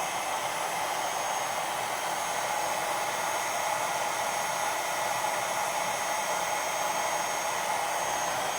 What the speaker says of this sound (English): heat gun, which is very concentrated heat